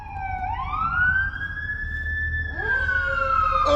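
A fire engine responding to a structure fire sounds its Q siren, a loud mechanical wail that rises and holds, then winds down with a horn blast near the end.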